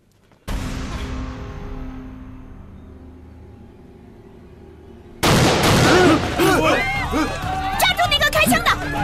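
Gunfire in a film scene starts with a single loud shot that rings and slowly decays. An abrupt burst of chaotic, loud commotion follows, with shouting voices over clattering noise.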